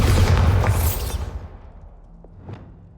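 Bombarda spell explosion in Hogwarts Legacy, a loud booming blast that opens the clip and rumbles away over a second and a half, followed by a couple of faint light impacts.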